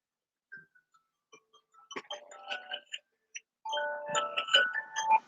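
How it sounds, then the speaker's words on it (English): A phone alarm rings during a craft chat, its tonal beeping chimes sounding in short bursts, sparse at first and then denser and louder toward the end, with no talking over it. "Oh, my alarm."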